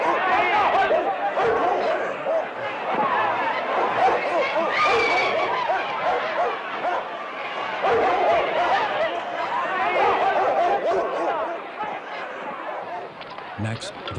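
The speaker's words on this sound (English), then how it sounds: "Bull Connor tried to stop the marches before they began and brought out the city's police dogs." Police dogs bark at civil rights demonstrators during a march, the barking mixed into a dense, loud crowd din of shouting and chatter throughout.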